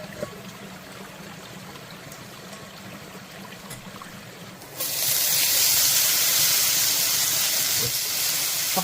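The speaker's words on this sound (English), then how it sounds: "Fucking loud sizzle." A loud, steady hissing sizzle starts abruptly about halfway through and continues to the end, following a quieter stretch of low background noise.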